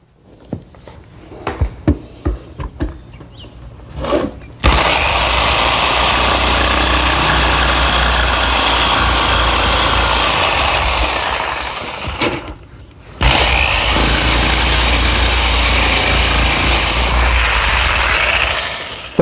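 A circular saw cuts melamine guided by a triangle square in a woodworking shop, first a few handling knocks, then a loud, steady whining cut that pauses briefly and resumes until the end.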